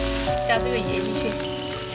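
Fish cooks in a pan with a short burst of steady sizzling and bubbling, close by, with some tonal background hum mixed in.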